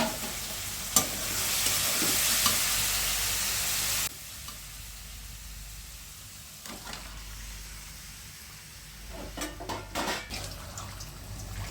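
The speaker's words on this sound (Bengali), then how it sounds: "তেল দিয়ে পেঁয়াজগুলো ভেজে সব মশলা দিয়ে কষিয়ে নেব" Onions and spices frying in oil in a home kitchen, a steady hiss and sizzle with intermittent stirring scrapes, fairly quiet and close, loudest in the first few seconds.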